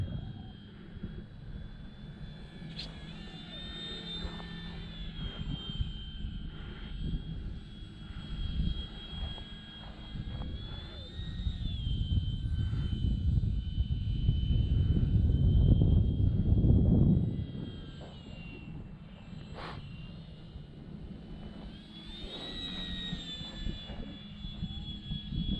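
A Hacker XL Zoom remote-control model airplane flies overhead, its electric motor whining steadily with rising and falling pitch as it passes, swelling louder and deeper midway before easing back.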